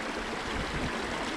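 Snowmelt water pouring out of rock in mountain country, a steady close rushing and trickling splash that fills the whole short stretch without pause or voices.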